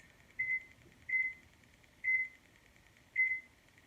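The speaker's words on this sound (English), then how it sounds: "Set our timer for 25 minutes." A kitchen oven timer beeps four times as it is set, short evenly spaced electronic tones, clear and alone over a quiet room hum.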